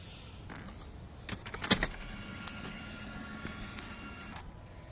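The power moonroof of a 2000 Mercedes CL500 runs with a quiet motor whir, a few clicks and one sharp mechanical clunk partway through, heard close up and alone.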